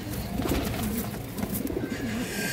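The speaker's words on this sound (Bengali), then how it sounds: "খুবই সুন্দর হাই কোয়ালিটির একটা সবুজ গলা মাদি কবুতর" A large green-necked female pigeon with bright red eyes coos in low, rolling, repeated calls, steady and fairly close with no voices over them.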